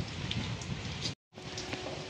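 Heavy rain hisses steadily close by, briefly cut to silence for a moment before the downpour resumes.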